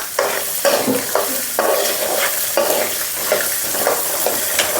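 Soaked peas fry with salt for a crispy snack, a loud, close sizzle cut by regular scraping stirs about every half second, each stroke swelling the hiss before it settles.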